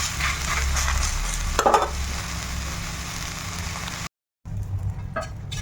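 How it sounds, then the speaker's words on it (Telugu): Pesarattu, a moong dal dosa, roasting on a hot pan, a steady frying sizzle with a brief scrape, cutting out for a moment before resuming. "అట్టు ఇది కూడా ఒకసారి కాలుస్తాను"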